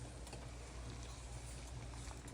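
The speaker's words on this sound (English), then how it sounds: "pot is boiling" Water boils in a pot for a ginger pineapple-skin drink, a faint, steady bubbling and hissing wash with no talking.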